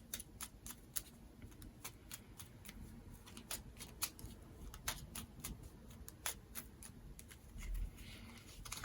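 A deck of tarot cards being shuffled by hand, a steady run of crisp, quiet riffling snaps and flicks heard close up, with faint background rumble and no talking.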